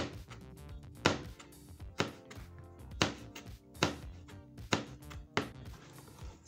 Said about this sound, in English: We are going to be chopping this pepper.